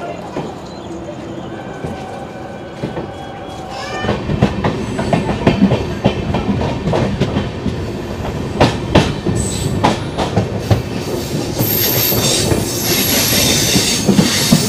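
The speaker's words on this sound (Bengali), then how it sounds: "ট্রেন ছেড়ে কিন্তু সোজা গিয়ে দাঁড়াবে 71 কিলোমিটার দূরে পাকুড়তে।" An Amrit Bharat Express passenger train runs along the rails, heard from on board as a steady rumble with rhythmic clickety-clack wheel beats and occasional squeals, loud throughout with faint voices.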